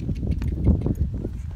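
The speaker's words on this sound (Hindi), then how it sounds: "अभी चाचू घोड़ा चला रहे हैं।" A ridden horse's hooves clip-clop in a steady, close rhythm on an outdoor farm during a wheat harvest, with faint voices in the background.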